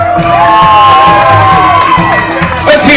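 A bar crowd at a live music night claps and cheers loudly to score a performer, giving a dense, close roar of whoops and shouts with bursts of clapping, over a band playing with a thumping beat.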